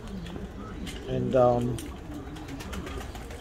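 Pigeons in a backyard loft coo in a low, throaty burble that rises and falls once in the middle, partly under a voice and steady outdoor background noise.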